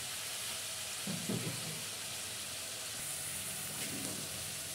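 Onions sautéing in a pan until reddish-brown for a village-style potato chutney: a continuous, even sizzle with a couple of soft stirring scrapes, no voices.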